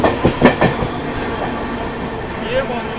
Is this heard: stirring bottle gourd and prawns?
no